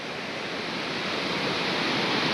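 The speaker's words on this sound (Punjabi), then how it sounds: "ਪਾਣੀ ਦੇਖੋ ਇੱਧਰ ਬੜਾ ਖਤਰਨਾਕ ਪਾਣੀ" Torrent of rushing water at the Harike headworks on the river, a loud, steady broadband roar with no pauses, filling the whole moment without any voices.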